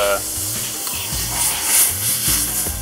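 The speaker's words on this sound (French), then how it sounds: "Ce que je vais faire, c'est déglacer avec du vin rouge" Hot butter sizzles and hisses steadily in a pan as red wine is poured in to deglaze it, with a bright, continuous frying crackle and a few low thumps from kitchen handling.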